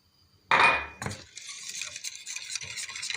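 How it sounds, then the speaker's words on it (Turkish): Flour being stirred into milk and sugar in a pot, with a sudden loud pour or clatter at first, then continuous scraping and whisking strokes against the pot, close and steady. "katılaşıncaya kadar karıştıracağım arkadaşlar"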